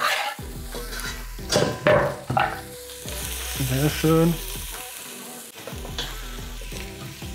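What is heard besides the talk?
onion and garlic frying in hot olive oil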